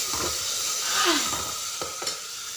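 Green chillies sautéing in a hot pan, a constant loud sizzle and hiss broken by a few sharp scraping stirs of the spatula, close up with no talking.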